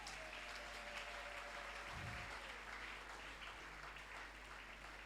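Church congregation applauding together, a steady dense wash of clapping that fills the space for several seconds without letting up.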